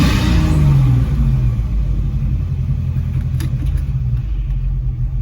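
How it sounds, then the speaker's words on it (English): A vehicle engine idles with the air conditioning running, a steady low rumble that dips slightly in pitch early on, then holds an even, continuous drone. "turn the AC on at low idle"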